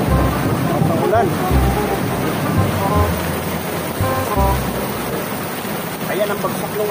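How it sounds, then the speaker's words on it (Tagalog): Heavy rain with thunder pours in a dense, continuous wash, with water splashing and gusty rumbles close by. "Ang ulan."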